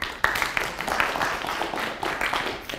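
Audience applause for a speaker at an open-source conference session, a steady wash of clapping from a seated crowd that swells and holds for a few seconds without speech.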